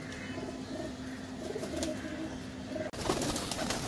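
Pigeons coo softly amid a constant outdoor background hum, with a few faint chirps and a brief clatter near the end.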